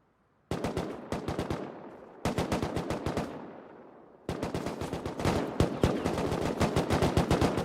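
Rapid automatic gunfire from the video game Rust, loud and close, in three sustained bursts of fast repeating shots separated by short pauses, with no talking.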